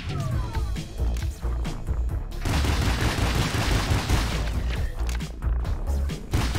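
Enemy gunfire in a roguelite twin-stick shooter game, a dense run of rapid shots and impacts crackling continuously over a steady low game soundtrack, with a short lull before the barrage thickens.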